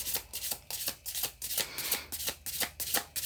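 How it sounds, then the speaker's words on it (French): Oracle cards being shuffled by hand, a rapid run of crisp riffling flicks in quick rhythm, close and fairly quiet with no voices. "on va mélanger un petit peu les cartes"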